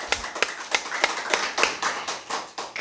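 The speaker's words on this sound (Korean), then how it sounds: "이럴 땐 박수 치는 거야." A few people at a church sermon clap in a loose, fairly slow rhythm, each clap distinct and close, about ten claps over a couple of seconds.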